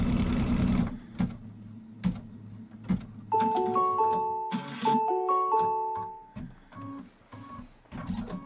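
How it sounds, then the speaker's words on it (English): An embroidery machine stitching a tack-down line on fabric, with a rapid mechanical needle chatter, intermittent clicks and short electronic beeps heard up close and alone. "let's stitch out this line that's going to tack this piece of fabric down"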